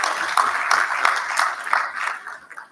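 A conference audience at the 2026 Basic Education Sector Lekgotla claps together in a broad, steady wash of applause that slowly thins toward the end.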